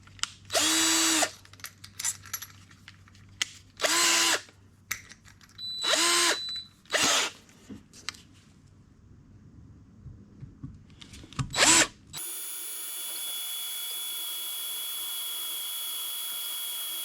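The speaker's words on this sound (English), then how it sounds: "And we'll just drill that," A power drill bores into the swingarm of a Suzuki GS1000 SN motorcycle in a workshop, running in about six loud, whining bursts separated by quiet pauses, then a steady electrical hum takes over.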